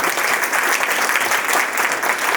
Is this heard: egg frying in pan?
no